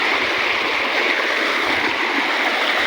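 After heavy rain, torrents of floodwater pour across a road beside submerged rice paddies, a dense, continuous hiss and roar heard up close with nobody speaking.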